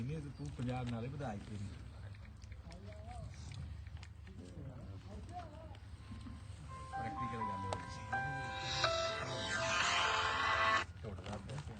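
Pigeons coo softly in the background while people talk over them, joined later by a brief melodic tone, all fairly quiet and at a moderate distance.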